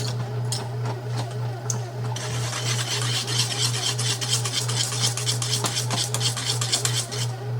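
Metal whisk rubbing and scraping steadily around a pot of caramel mixture on the stove, a continuous raspy stirring with a low steady hum beneath, close and fairly loud.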